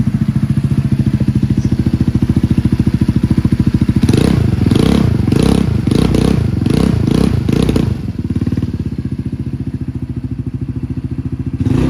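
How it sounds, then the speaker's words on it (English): A 2024 Venom X19 200cc automatic motorcycle engine runs steadily up close, then revs in a series of quick throttle blips before settling back to a smooth idle. "It's the X19 200cc automatic motorcycle"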